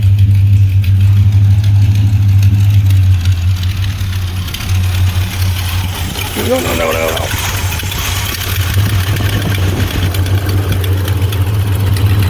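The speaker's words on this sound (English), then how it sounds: "Stay running, car." An old car with a large air cleaner and a distributor cap idles close by, a steady low rumble running throughout while a person talks over it.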